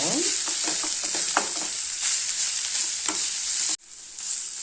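Grated gooseberry sautéing in hot oil in a pan for a sesame mixed rice, a loud continuous sizzle with stirring scrapes, close up, briefly dropping then resuming near the end.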